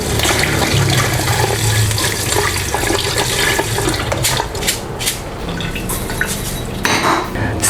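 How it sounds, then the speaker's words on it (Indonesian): Water pouring into a metal pot of glutinous rice being set to soak, a steady splashing rush with clinks of the pot and utensils throughout. "Selanjutnya kita kasih air."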